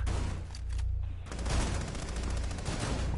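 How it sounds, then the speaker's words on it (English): Rapid gunfire bursts through a wall in Rainbow Six Siege, a dense fusillade of shots with a brief pause near the start, fairly loud and alone. "I was shooting through the wall to see if I could get him."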